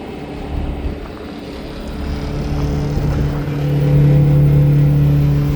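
Hydraulic deck of a Talbert trailer rising behind a Peterbilt 389 truck, a steady mechanical drone with idling engine rumble that swells and a sustained whine building in the second half, no talk.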